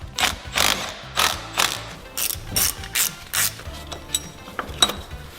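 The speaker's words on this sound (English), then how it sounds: "So now we're going to go ahead and undo a few bolts and take out the old mount." Ratchet wrench undoing the engine-mount bolts on a Toyota Sera, with repeated bursts of rapid mechanical clicking in a steady rhythm, close and clear, with brief pauses between strokes.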